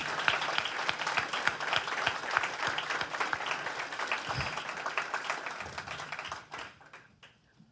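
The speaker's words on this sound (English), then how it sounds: "a big round of applause." An audience applauds participants at a Justice Day gathering, a dense, steady wash of many hands clapping for about six seconds before fading out.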